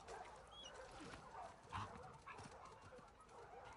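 A dog in The Last of Us Part II, heard as soft game-audio vocal sounds with a brief louder yelp or bark in the middle, set against a busy ambient background.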